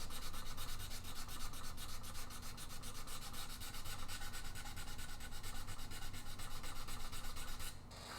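Steady, continuous rasping of sandpaper rubbing over a wooden guitar body, even and close, with a rhythmic scratchy texture that stops abruptly near the end.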